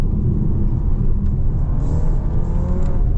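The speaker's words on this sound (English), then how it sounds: "Full throttle, and yeah, you've got that all-wheel drive grip getting straight to the tarmac" A 2025 Skoda Superb 195 TSI with all-wheel drive pulls hard at full throttle, its engine giving a steady, loud, dense roar and rumble from inside the cabin, with no voices.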